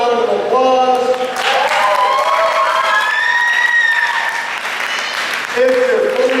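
A fair's main-stage hypnosis show crowd breaks into loud applause and cheering, with clapping, whoops and shouted voices layered over one another, easing slightly before a speaking voice returns near the end.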